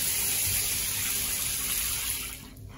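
Water from a shower on a cruise ship with European controls runs as a steady broadband hiss, then tapers off as the flow is turned off near the end.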